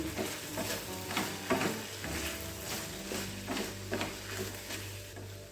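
Spoon stirring chili powder into a tomato and onion chutney in a hot pan, a steady sizzle with soft scraping strokes repeating every second or so, close and moderately loud with no talking.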